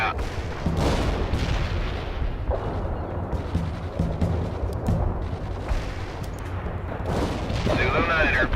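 Artillery barrage in World in Conflict: repeated heavy booms and rumbling shell impacts roll on continuously, loud and dense, with faint radio chatter underneath.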